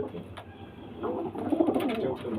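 Fantail pigeons coo softly close by, low throaty murmurs swelling in the second half amid faint background rustle.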